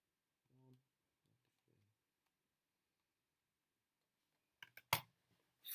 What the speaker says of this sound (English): I'm going to just work it out on my calculator by typing it in